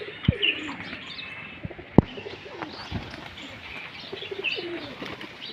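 Pigeons coo softly among scattered chirps as rain begins in a village, with a few sharp knocks and faint wing flutters in a steady outdoor background.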